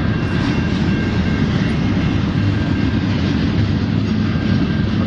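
Train passing at rush hour in St Henri, Montreal, a loud continuous rumbling roar of rail cars rolling by close, steady throughout with no talk.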